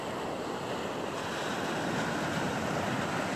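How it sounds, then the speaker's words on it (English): Ocean surf rolls in steadily at Laguna Beach, California, a continuous broadband wash of breaking waves with some wind rumble, fairly distant and even in loudness throughout. "The waves are incredible. They're just crashing"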